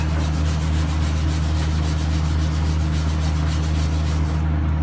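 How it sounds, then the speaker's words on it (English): A wire brush scrubs back and forth over a fresh arc weld, a steady, loud, close rasping with even rhythmic strokes and no talk. "Now I'm going to use the wire brush."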